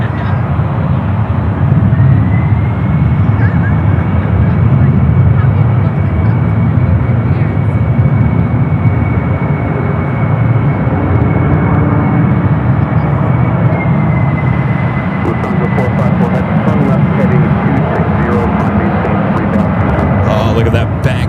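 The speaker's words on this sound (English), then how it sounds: "A Lufthansa Queen going around." A Lufthansa Boeing 747 going around at San Francisco airport, its engines roaring loudly and steadily throughout with a rising whine, while people talk underneath.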